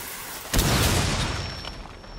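Breaching charge detonating in Rainbow Six Siege, a single sudden heavy boom after a low rumble, then a long fading rumble with a thin high ringing tone.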